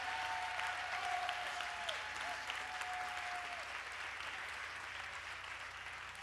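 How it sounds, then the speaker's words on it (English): Sustained applause from a church congregation in Brooklyn honoring the state attorney general at a governor's appearance, a dense, steady wash of many hands clapping that holds evenly for several seconds. "Give her a round of applause."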